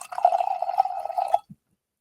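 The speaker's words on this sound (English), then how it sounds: "Get ourselves a pour." A mango alcoholic drink pours into a glass in a close, steady gurgling stream for over a second, then stops, followed by a single faint clink, with no talking.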